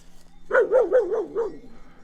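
Dogs on a farm in central Portugal barking at a neighbour's passing sheep: a quick run of five rhythmic barks at moderate distance, followed by quiet.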